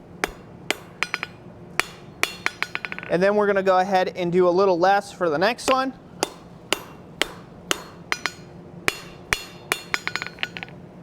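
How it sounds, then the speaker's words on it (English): Hammer blows forging a metal petal for a Russian rose ring out in a steady run of sharp, bright strikes, about twenty in all, with a spoken voice breaking in over the middle stretch. "we're just going to hammer it straight down"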